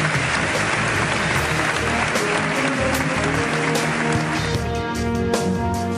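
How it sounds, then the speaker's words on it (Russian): A US Congress chamber gives a standing ovation, with dense, sustained applause from a large crowd that stays loud and even for the whole stretch. "Они аплодировали ему стоя не меньше минуты."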